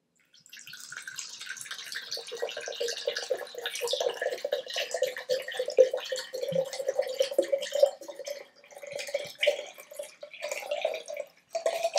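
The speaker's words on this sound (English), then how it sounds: "Next, I'm going to add some water." Water is poured into a jar of salt during a preschool science demonstration: a steady, trickling pour runs for about ten seconds, splashing and gurgling as the jar fills, then breaks into a few short final spurts.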